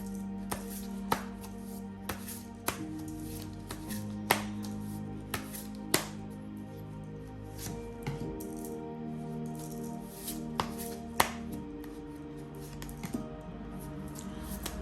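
Tarot cards are handled and shuffled, giving faint, crisp snaps and flicks at irregular intervals over a low, steady tonal background.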